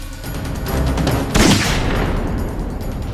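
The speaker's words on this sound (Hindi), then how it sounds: "भागते वक्त अभिजीत मुझे रोकने के लिए गोली चलाएगा।" A burst of rapid gunfire rattling amid a loud, dense roar, with one heavier shot standing out in the middle.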